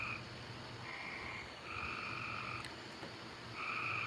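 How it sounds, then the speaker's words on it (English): Frogs croak in repeated buzzing bouts, rising and pausing in a steady rhythm against a quiet outdoor background. "Frogs is back."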